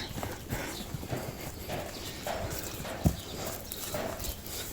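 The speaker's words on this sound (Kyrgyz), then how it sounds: "Бул тай азыркы энеси менен турган кулун." A young horse foal moves beside its mare, hooves clip-clopping in soft, uneven steps at moderate distance outdoors, with one sharper knock standing out.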